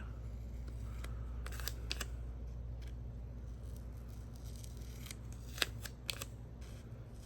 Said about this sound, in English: let's just kind of do a sloppy, fussy cut to cut off some of that extra white